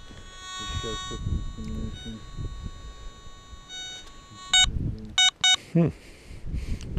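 A low electronic tone hums under faint talk, then a Garrett ATX metal detector with a deep seeker coil, used while gold prospecting at Coolgardie, gives a few sharp, loud beeps in quick succession near the end.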